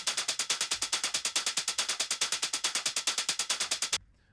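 Closed hi-hat drum loop from a raw techno production in Ableton, a fast, steady run of about thirty crisp, bright ticks with an even, mechanical rhythm, loud and alone, stopping abruptly near the end.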